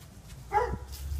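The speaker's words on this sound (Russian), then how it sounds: "Собачки, гав-гав." A dog at a house in the United States lets out a single brief bark partway through, moderately close, over a low steady background hum with no talking.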